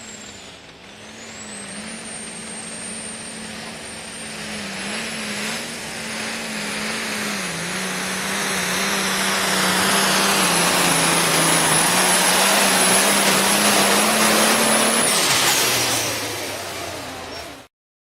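Pulling tractor making its winning pass on Saturday night in Ravenna, Nebraska: a loud, sustained engine roar with a high whine that swells over about fifteen seconds before cutting off abruptly, with no talk.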